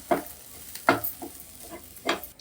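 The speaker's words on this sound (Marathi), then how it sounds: "आता ह्याच्यात घालूया भरपूर सारी कोथंबीर ती पण एकदा परतून घेऊया" Chopped coriander is sautéed in a pan, with a few distinct scraping stir strokes over a faint sizzle, about four clear strokes spaced irregularly, close and with no talk.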